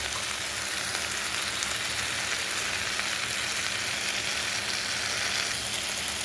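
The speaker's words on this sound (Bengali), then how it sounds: "আরও 5-7 মিনিট আমি এইভাবে ভেজে নেব।" Potatoes frying in a pan for a Bengali aloo posto dish, a steady, even sizzle of hot oil that stays constant throughout, close and alone with no talking.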